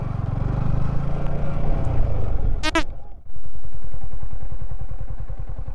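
A motorcycle rolls downhill in gear on a mountain road in Ladakh, with a steady, close engine drone and a sharp clattering burst partway through, then an even, rhythmic pulsing thrum.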